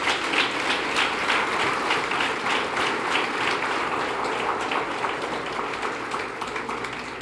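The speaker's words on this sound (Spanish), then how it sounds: "Denle ese aplauso al Señor." Congregation applauding at a church service, a dense, steady wash of many hands clapping throughout, fairly loud and even with no break.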